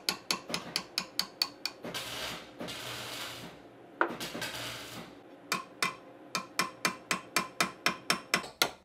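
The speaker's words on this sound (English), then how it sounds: "To start the fuller, I first trace a small line with one of the chisels" A steel chisel is tapped along a seax blade to trace the fuller line, giving close, regular metallic taps in quick runs, broken by a stretch of softer scraping and rustling.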